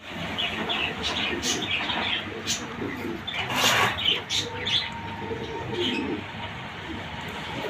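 Pigeons coo continuously on a pigeon farm, a dense murmuring chorus with occasional chirps and wing-like flutters, set against steady background noise.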